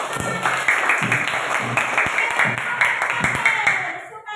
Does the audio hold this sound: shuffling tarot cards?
no